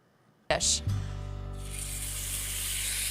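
Beef dropping into hot oil in a pan sets off a sudden loud sizzle that settles into a steady, close frying hiss. A voice is heard briefly at the start.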